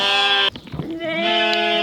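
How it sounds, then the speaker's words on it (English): Sheep tied up on a farm, some newly sheared, bleat loudly and close by, one long wavering call, a short break with shuffling, then another sustained bleat. "So I got all the sheep tied up back here for a minute."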